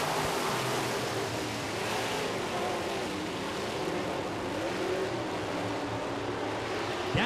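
Modified race cars roar off together at the start of a heat race at a Fourth of July oval-track event, a dense, steady engine rumble at moderate distance with no break across the clip.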